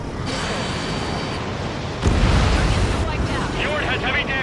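Missile launch and explosion in the Ace Combat flight game: steady loud roar of jet and combat noise, then a heavy booming burst about halfway through that swells louder and rumbles on amid game sounds.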